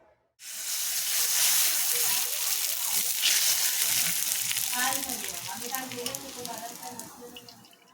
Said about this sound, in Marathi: आता आपण तळून घेऊयात पापड.